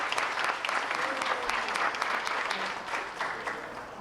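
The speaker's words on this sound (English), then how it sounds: "A big round of applause to all of you." An audience at a 90-plus birthday celebration gives a round of steady, moderately loud applause that continues evenly from start to finish.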